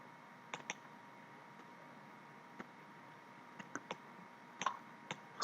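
Sparse, faint key clicks from a computer keyboard as a math function is typed in, scattered singly and in small pairs across a quiet background with no talking.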